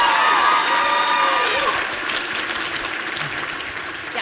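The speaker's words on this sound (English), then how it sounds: "let's give them a round of applause" Audience applause and cheering at an awards ceremony, the D.I.C.E. Awards, as scholars come out on stage; a loud, dense wash of clapping with some voices mixed in that gradually softens over a few seconds.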